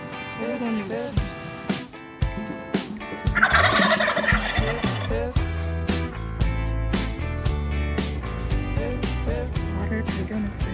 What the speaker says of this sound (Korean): 저기 칠면조가